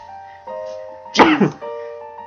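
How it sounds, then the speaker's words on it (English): A single close, sharp human sneeze bursts out over a soft background hum with light musical tones, lasting about half a second. "Sorry, I'm gonna sneeze."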